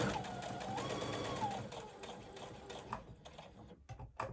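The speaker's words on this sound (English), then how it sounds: "Now I'm going to lift up my needle and go sideways, still using that same straight stitch." A sewing machine running a straight stitch on a pencil skirt, a steady close whirring that slows and stops toward the end, with faint rattles after.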